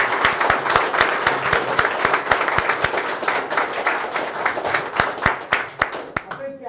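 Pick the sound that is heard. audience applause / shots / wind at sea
audience applause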